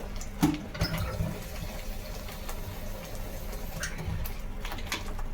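Water pours and splashes steadily into a pan of frying crab masala close by, a continuous gurgling trickle with no voices.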